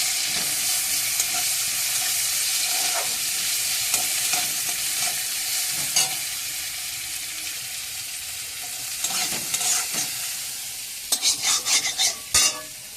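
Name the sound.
chopped onion and panch phoron frying in oil, stirred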